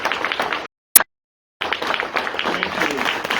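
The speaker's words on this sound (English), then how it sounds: "Let's give him a round of applause." An audience claps in a round of applause, steady crowd clapping that drops out briefly in the middle, with a click, then resumes.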